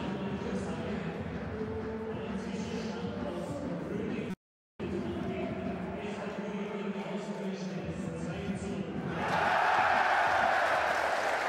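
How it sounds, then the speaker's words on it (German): Football crowd at a Rapid Vienna match in spring 2014, a steady stadium roar with a brief dropout, then swelling into louder cheering near the end. "Der Jubel, weil das Zwischenergebnis aus Grödig durchgesagt wurde"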